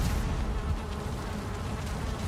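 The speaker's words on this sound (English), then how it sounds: "Oh, we got bit by angry bees." Angry bees in the video game Valheim buzz continuously and close, a steady insect drone with no talk.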